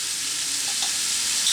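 Riced cauliflower in a pan, sizzling with jarred pesto stirred in: a dense, continuous hiss of frying with faint scraping, close and loud, brief, with no talking.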